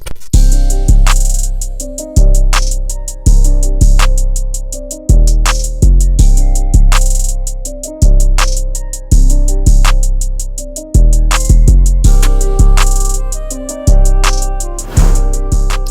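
A hip-hop beat pounds out loud and close, with heavy booming bass hits in an irregular trap rhythm under sharp rapid hi-hats and a melodic layer, continuous for the whole stretch with no voices.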